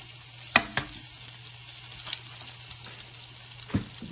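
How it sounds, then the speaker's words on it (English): Leeks sizzle steadily in melted butter in a pot, a constant close frying hiss with a few sharp clicks of a utensil against the pot. "I'm going to put a nice dollop of butter in there"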